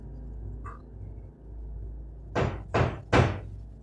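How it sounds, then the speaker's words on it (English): Knocking on a door in a horror video game, with three heavy, evenly spaced thuds close together after a low ambient hum and a faint earlier tone. "Is that knocking on the door?"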